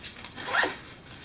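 A zipper on a minimalist winter clothing storage bag runs in one quick pull, a close, bright zip that swells near the middle and tails off, with no one talking.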